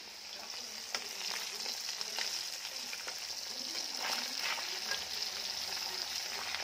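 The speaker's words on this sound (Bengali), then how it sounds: "মাছগুলো এখন বন্ধুরা ভাজা করছি।" Steady sizzling of fish frying in hot oil, with occasional sharper crackles and pops throughout.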